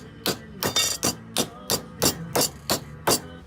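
A hammer strikes a metal bracket piece being bent for a light bar on a Sprinter van, about nine sharp, close metallic blows in a fairly steady rhythm.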